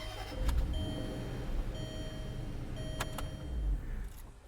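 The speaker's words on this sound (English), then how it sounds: "Car still starts." A Range Rover is unlocked and started while testing a cloned key: short electronic beeps and clicks, then the engine cranks and settles into a low idle, close by and moderately quiet.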